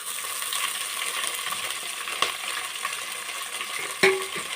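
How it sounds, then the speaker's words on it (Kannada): Fenugreek seeds and green chillies fry in a pan for chicken dum biryani: a steady, close sizzling hiss, broken by a light clink of a utensil near the end. "ಇವಾಗ ಫ್ರೈ ಆಗಲಿ. ಸ್ವಲ್ಪ ಫ್ರೈ ಆದರೆ ಸಾಕು."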